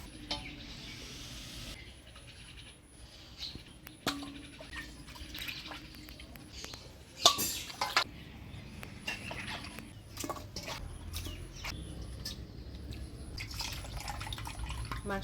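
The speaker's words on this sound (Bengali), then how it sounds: "আমি ততক্ষণে মাংসটা ধুয়ে নিই।" Chicken meat is washed under running water from a tap, with faint trickling, drips and occasional splashes and clatter in a kitchen sink.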